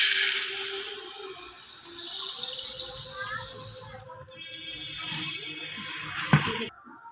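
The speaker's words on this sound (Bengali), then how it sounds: "খইগুলো আমি একটা পাত্রে ঢেলে দিচ্ছি।" Puffed rice (khoi) pours into a pot in a dense, continuous rattling hiss, then the pouring thins into scattered grains and light clinks near the end.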